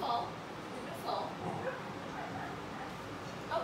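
Two young male puppies yip and whimper in short, high, faint bursts at a crowded foster home, scattered across a soft indoor background with people talking nearby.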